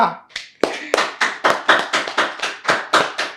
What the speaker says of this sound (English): Let's clap in the studio.